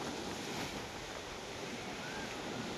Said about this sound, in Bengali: ঢেউগুলো দেখো বিশাল বড় বড় ঢেউ আসছে